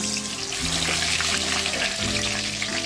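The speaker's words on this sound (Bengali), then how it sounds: "ফুড কালার দিয়ে আলুগুলো আমি মেখে রেখেছিলাম, এবারে আমি তেলে ছেড়ে দিচ্ছি, লাল লাল করে ভেজে নেব।" Potatoes coated in food colour fry in mustard oil with a loud, steady, bubbling sizzle that fills the whole stretch, close and unbroken, with no talking over it.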